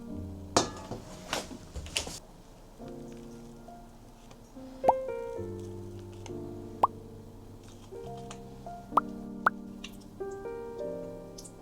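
Whey from strained yogurt falls in soft, scattered plops and drips into a container, a few sharper drops standing out over steady background music.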